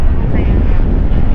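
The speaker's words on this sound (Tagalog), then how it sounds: "Hangin na yata eh." Strong wind buffeting the microphone while parasailing over Boracay, a loud low rumbling roar that fills the whole moment without a break.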